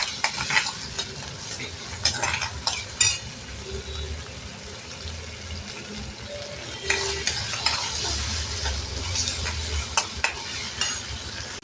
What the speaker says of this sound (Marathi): टोमॅटो घालूया, बारीक चिरलेला, कांदा परतून घेऊया